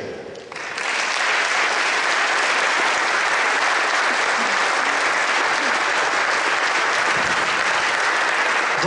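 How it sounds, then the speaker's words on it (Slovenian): An audience at a New Year's reception in Ljutomer bursts into loud, sustained applause to welcome a stand-up comedian, dense clapping rising quickly and holding steady for several seconds. "Pozdravljamo ga z velikim aplauzom"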